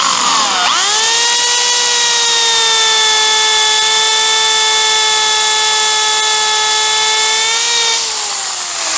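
Tenon cutter carving a 5/8 inch tenon for a bow back Windsor chair, a loud, steady high-pitched whine held for about seven seconds after a rising start, then winding down at the end, with no talk.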